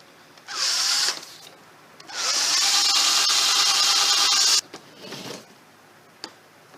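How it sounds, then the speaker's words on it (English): A handheld power drill bores screw holes for a loose caster on a piece of furniture, running in three bursts: a short one, a long sustained whine, then a brief final spin, close and loud. "Now we'll drill some holes and put some screws in."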